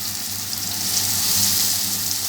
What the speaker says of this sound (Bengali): তেলটা গরম হয়ে গেছে আমি এখন এই চিংড়ি মাছটা দিয়ে দিচ্ছি